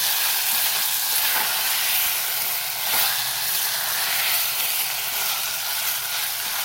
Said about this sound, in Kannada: ಕುಕ್ಕರ್ ಮುಚ್ಚಿಬಿಟ್ಟು ಒಂದು ವಿಷಲ್ ಆದರೆ ಸಾಕು